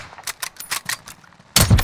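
An AK-47 fires in a video game as a rapid string of sharp, close shots, ending in a louder, denser burst.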